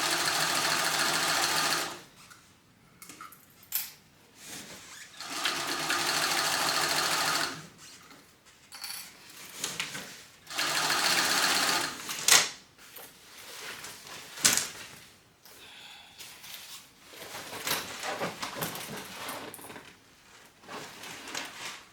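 A sewing machine stitches fabric with the presser foot lowered, running in several close, steady bursts separated by short pauses and small handling clicks, with no talk over it.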